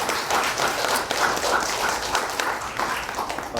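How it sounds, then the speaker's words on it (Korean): Audience applause at a Korean pre-departure information session for Chevening scholars, welcoming a University of East Anglia graduate to speak. The dense clapping runs steadily through the whole stretch with no talk over it. "큰 박수로 맞아주시기 바랍니다."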